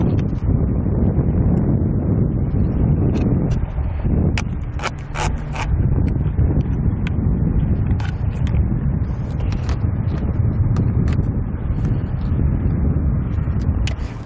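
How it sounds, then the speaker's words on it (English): Bike rack straps on a Thule Camber 4-bike rack fitted to a 2018 Honda CR-V, rubbing and sliding out through a buckle with a scratchy rasping texture, occasional sharp ticks and clicks, and steady outdoor wind noise behind. "we can press it in, and we can start feeding the straps out until they're completely out of that buckle"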